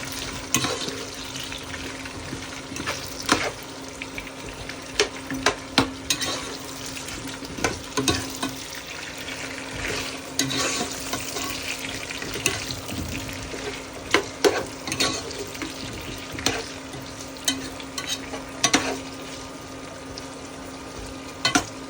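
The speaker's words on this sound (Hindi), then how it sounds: "प्याज हो गया था ब्राउन और उसमें आलू डाल के थोड़े से आलू भी ब्राउन कर लेते हैं।" Potatoes fry with browned onions in a pan, a constant crackling sizzle broken by repeated sharp scrapes and knocks of stirring, loud and close.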